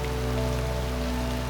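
Steady rain falling on a surface during a tabletop role-play scene, a continuous soft hiss over a low droning hum, even and unbroken throughout.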